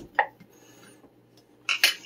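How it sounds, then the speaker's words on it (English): A jar of homemade chicken broth being opened in a kitchen, a faint clink near the start followed later by a pair of sharper glassy clacks and a brief scrape, quiet and close. "I'm going to go ahead and open up my jar of homemade chicken broth."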